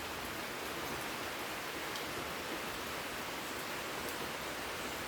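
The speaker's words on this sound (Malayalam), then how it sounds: "ഇപ്പോൾ രാവിലെ നല്ല മഴയും അതുപോലെ വെയിലുണ്ട് കേട്ടോ" Steady morning rain falls outside a house, a soft, even hiss with no breaks and no voices.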